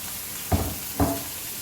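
Mushrooms and baby gem lettuce grilling in oil with salt, pepper and a splash of balsamic give a steady, close sizzle, broken by two short, louder spits about half a second apart.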